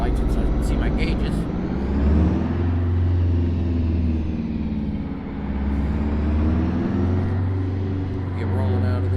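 Heavy diesel truck engine in American Truck Simulator, idling then pulling away from a parking lot in a low gear, a steady loud low rumble that swells and dips as it revs, with a voice talking over it.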